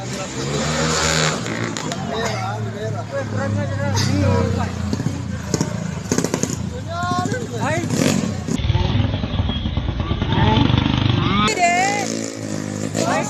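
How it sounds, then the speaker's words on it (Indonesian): A motorcycle fitted with a loud aftermarket racing exhaust revs repeatedly in a Makassar street near a presidential motorcade, its engine roaring and surging under steady overlapping talk throughout. "motor tersebut terdengar seperti memakai knalpot racing dan sengaja digeber-geber"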